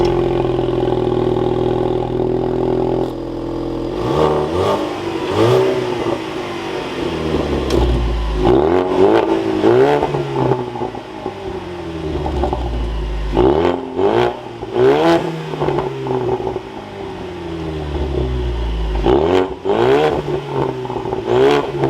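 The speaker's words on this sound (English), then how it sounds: "now inside the EcoBoost, keeping my foot on the brake, we can go ahead and fire it up" A Ford Mustang EcoBoost with the High Performance Package fires up from inside the cabin, then sends out repeated rising and falling revs. The blips come at steady intervals and sound loud and close, with no talking.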